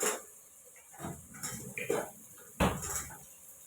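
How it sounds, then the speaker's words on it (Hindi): Potatoes go into a cooking pan for Indian aloo sabzi, with metallic scrapes and clinks of a spoon against the pan in a few distinct bursts, fairly quiet and close. "अब हम इसमें डालेंगे आलू"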